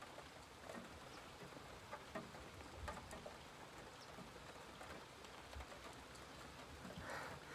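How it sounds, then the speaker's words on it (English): Steady rain falling outdoors in light wind, a soft continuous patter with scattered louder drops, fairly faint and even throughout with no talking. "but I'm getting rained on"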